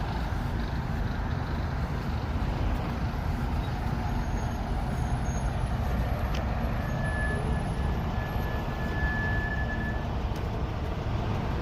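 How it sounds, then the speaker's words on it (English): A Bay State Medical Center bus rumbles steadily and loudly close by, its engine and road noise constant throughout with no pauses. "Another Bay State Medical Center bus."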